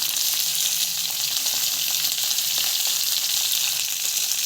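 Chili and garlic fry in hot oil with a steady, close hiss and crackle, continuous and even throughout, with no voices.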